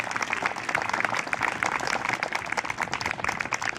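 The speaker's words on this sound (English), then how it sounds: "give the coaches a round of applause" A room full of people applauds the coaches at a state championship ceremony, a dense patter of clapping that holds at an even level from start to finish.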